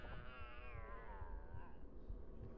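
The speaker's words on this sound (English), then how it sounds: "Was that a cat, or did something die?" A cat meows in a long, drawn-out, wavering cry that falls in pitch, heard at moderate level over a low background rumble.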